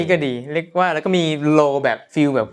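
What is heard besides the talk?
No distinct noise like a dog, phone or traffic.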